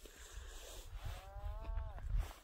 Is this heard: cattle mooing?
yes